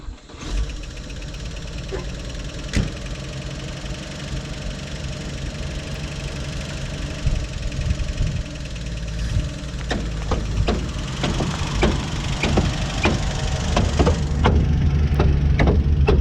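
A vehicle engine runs steadily through its first drive after being put in gear, with a rough knocking undertone and scattered clunks and taps that grow busier toward the end, a noise from the front end.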